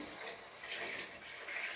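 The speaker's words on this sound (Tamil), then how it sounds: "அப்படியே தான் தண்ணி ஊற்றி வைக்க போகிறோம்" Water, about seven cups, pours into a pot of masala for Vellore chicken biryani: a steady, continuous close-up splashing gush with no pauses.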